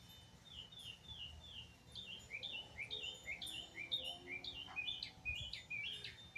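Small birds sing outdoors in a series of repeated high, chirping phrases that grow busier and louder, over faint background noise.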